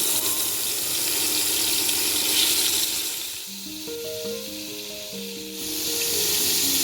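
Pieces of stingray fish dropped into hot oil sizzle loudly and steadily, the frying crackle dipping briefly while a few tonal clinks or chimes sound, then returning to full strength.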